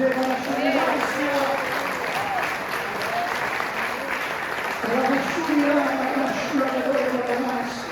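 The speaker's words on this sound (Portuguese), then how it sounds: "Oferece palmas para o Rei da Glória." A church congregation at a prophetic Saturday service applauds steadily for the King of Glory, sustained crowd clapping with a preacher's voice and singing-like tones running over it.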